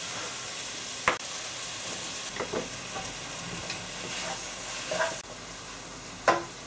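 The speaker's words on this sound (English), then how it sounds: "So whilst the chicken is frying" Chicken fries steadily in a hot pan, sizzling with occasional scrapes and clinks of stirring; quiet and close, no talking.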